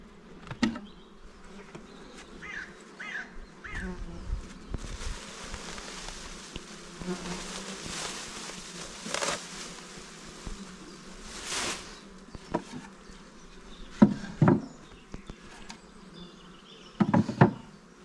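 Bees buzz at an opened beehive during an inspection, a soft, continuous droning hum with occasional louder passes close by and faint knocks from handling the hive, no talk.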